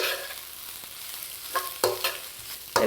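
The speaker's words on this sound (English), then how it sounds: "Okay, so keep that on high heat. That's simmering away." Jackfruit fajita mixture simmering in a pan on high heat, a soft continuous sizzle broken by a few sharp scrapes and clacks of a utensil against the pan.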